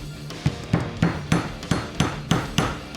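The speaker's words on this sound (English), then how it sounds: "I've got my set hammer" A set hammer taps steadily on firearm parts while a Sig Cross rifle is being reassembled, giving about eight sharp, evenly spaced metallic knocks, close and loud with no talking.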